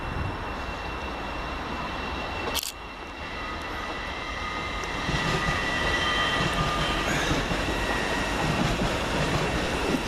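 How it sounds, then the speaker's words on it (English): An LNER Class 800 train pulls into Peterborough station, a steady rumble of rolling stock building slightly with faint squealing tones from the wheels, heard alone at moderate distance with a brief sharp click early on. "Arriving next for LNER is 800-207, working the 13:01 service from London King's Cross to Lincoln Central."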